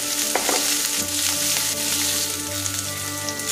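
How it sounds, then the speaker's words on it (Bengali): Rice tipped into a pan of hot ghee and spices for matar pulao, sizzling and crackling steadily with scraping stirs throughout, close and moderately loud. "এবার রাইসটা দিয়ে দিলাম।"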